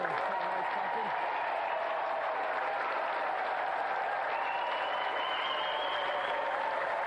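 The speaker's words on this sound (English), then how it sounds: "So let's have another round of applause for our gallant winner, Catherine Allen!" Sustained studio audience applause on a TV game show fills the space, a dense steady clatter of clapping with some crowd noise mixed in.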